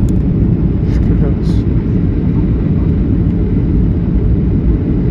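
Loud, steady roar of a passenger airplane during landing, a continuous broadband rumble that fills the whole clip with little change in level.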